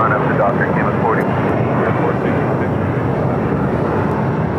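An airliner takes off from runway 25 Right at LAX, a broad, steady roar of jet engines from a distance that holds at an even loudness throughout.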